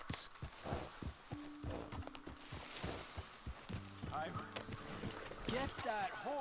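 Horse hooves clip-clop in a Red Dead-style western video game, a steady rhythmic plodding under several people talking, with a brief tonal hum in the background.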